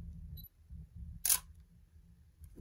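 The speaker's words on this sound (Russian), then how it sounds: "идет подтверждение фокуса звуковым и световым сигналом. Это работает на всех зеркальных камерах." An SLR camera fitted with a Helios-40 lens gives one short, faint electronic focus-confirmation beep, followed moments later by a crisp mechanical click, against a quiet low hum.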